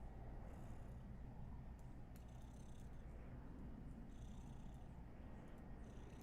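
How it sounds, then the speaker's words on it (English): A house cat purrs in a low, continuous rumbling drone, close and steady throughout, with faint mechanical clicks above it. "She's purring."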